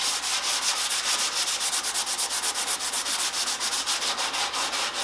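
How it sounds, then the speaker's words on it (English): Steady rhythmic rasping of sandpaper rubbed back and forth over a wooden bow, close up, in quick even strokes with no voices. "So I'm going to continue sanding here."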